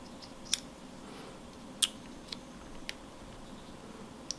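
Small scissors snipping into a snake egg shell, heard as a few sharp, faint, isolated clicks spaced irregularly over a quiet background, with no talk.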